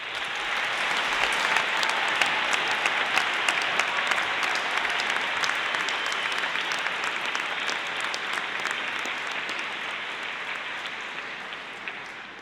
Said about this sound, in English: So you did clap, you did cheer, there was the odd whoop, I think there was a few whistles.